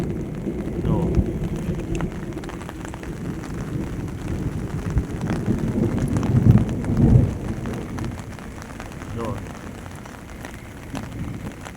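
Heavy downpour during the first rain of the season in Dadodiya, with four to five inches falling in an hour: a dense, steady roar of rain pounding surfaces, swelling briefly louder midway, with possible faint distant rumbles.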